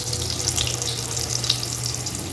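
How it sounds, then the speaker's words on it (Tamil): Donut dough frying in hot oil, a steady close sizzle with bright crackling and soft watery bubbling that runs without a break, a low hum underneath. "இப்போ ஆயிலில் பொரிக்கிறேன்"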